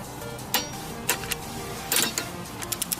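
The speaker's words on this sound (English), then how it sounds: "readjust my torque wrench" Torque wrench on a Honda CBR600FA motorcycle being readjusted, with several sharp clicks and small ticks scattered over a quiet workshop background.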